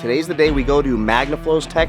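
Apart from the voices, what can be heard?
No everyday noise stands out behind the speech.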